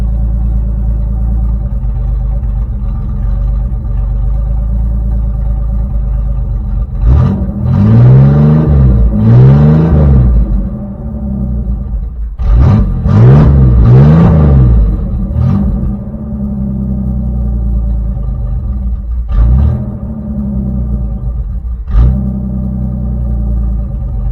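A 1984 Chevrolet S10 pickup engine idling loudly with a steady low rumble, broken by several bursts of revving around the middle and a couple of short blips near the end.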